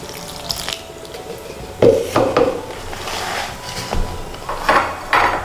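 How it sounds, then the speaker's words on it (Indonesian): Water being poured into flour in a bowl while mixing martabak telur dough, with a short rushing pour and a few clattering splashes and bumps in a quiet kitchen, no talking. "Kemudian kalian masukkan air."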